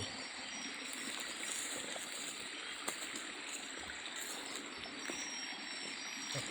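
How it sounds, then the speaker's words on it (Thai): A flowing stream of water, a steady continuous trickling rush heard close and fairly faint, with no voices. "น้ำไหล"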